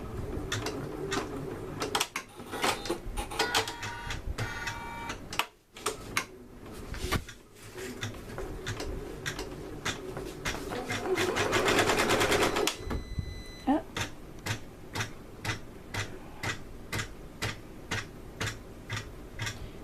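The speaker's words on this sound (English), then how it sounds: "So I'm going to hit start and it will sew my first stitching." An embroidery sewing machine stitching a onesie held in a hoop gives a fast, steady train of close ticking needle strikes, pausing briefly twice before resuming in an even rhythm, with a person speaking over parts of it.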